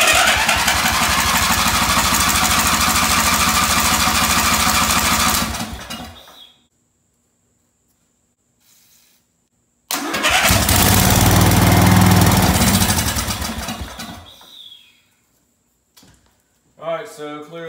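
A racing lawn mower engine cranks and catches twice, each time roaring loudly for a few seconds before sputtering out into silence, then it briefly turns over again at the end, close by; the engine has a fuel supply problem.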